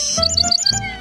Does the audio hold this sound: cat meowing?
no